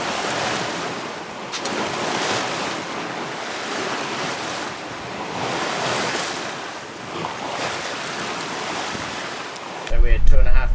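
Sea waves wash and surge continuously around a sailboat making about 6.5 knots on a gentle half-metre to one-metre swell near Cape Brett, New Zealand, with steady wind noise buffeting the microphone and a louder gust at the end.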